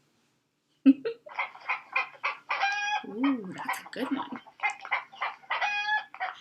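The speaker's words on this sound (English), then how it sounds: "Yes, it was a chicken." A chicken of a kind common in Hawaii, clucking in a rapid series of calls and crowing, close and fairly loud, with a person briefly speaking over it.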